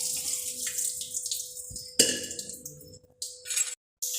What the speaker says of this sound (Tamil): இப்போ நல்லா தண்ணியை வடித்து எடுத்துக்கோங்க.